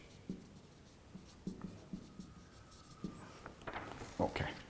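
Marker strokes on a lecture board as a sketch is drawn, a run of short scratchy taps and squeaks spread irregularly over a few seconds, quiet and close, with no voice.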